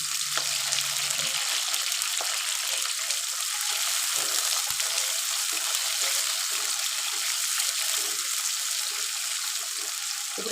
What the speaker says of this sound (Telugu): ఇప్పుడు ఆనియన్స్ అయితే మంచిగా ఫ్రై అయితే అయినాయి, ఆనియన్స్ పచ్చిమిర్చి.